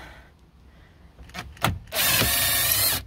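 A power driver with a 7mm socket backs out screws from the dash of a 2004 Saturn Vue in a junkyard, a short clack followed by a second-long whirring spin up close.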